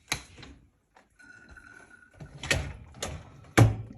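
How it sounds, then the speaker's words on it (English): A Miele dishwasher door opens with a few close clunks and latch knocks, the loudest thump coming at the end. A faint steady hum sits underneath. "I'm gonna open the door."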